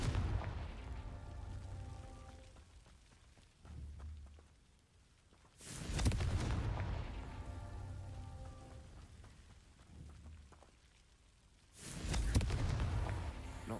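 Confringo fire curse explosions in Hogwarts Legacy, two loud booming blasts a few seconds apart, each with a sharp onset and a rumbling tail over quieter ambient game sound and music.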